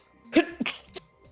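A single sharp sneeze bursts out close by, followed by a couple of quieter breathy catches, all within about a second in a quiet room.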